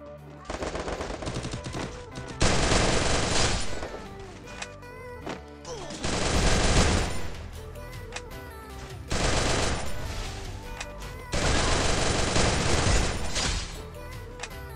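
Gunfire in the Free Fire video game, loud rapid automatic bursts in several long volleys with short gaps between them, close and dense, with no talk over it.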